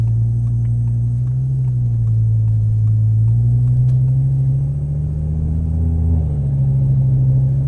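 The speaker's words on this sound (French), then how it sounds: "C'est un échappement avec des valves." A 700 hp car engine idles and swells with a low, throbbing rumble through a valved exhaust with the valves open, steady and close, with no one talking.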